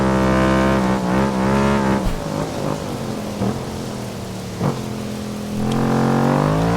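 A revving KTM 1290 Super Duke engine with a Leo Vince exhaust in the video game Ride 5 roars loudly and steadily, its pitch rising and falling as it accelerates, with rain-like noise in the background.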